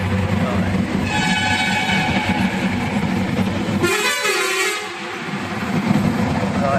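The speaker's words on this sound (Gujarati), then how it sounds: "પડઘા પડે ભાઈ જોરદાર હોર્નના." A truck horn blares inside a tunnel in Karnataka, a long sustained tone with strong echo over steady engine and road rumble, swelling briefly near the middle before the drive noise resumes.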